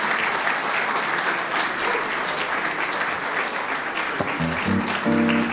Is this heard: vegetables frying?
no